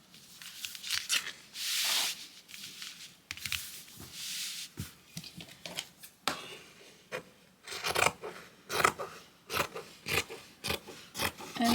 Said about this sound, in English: I am just going to cut around the outside edge